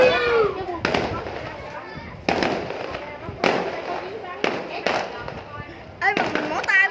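Fireworks burst outdoors in a yard during a night of celebration, five or six loud, sharp explosions spaced about a second apart with crackling tails, while people talk nearby between the blasts.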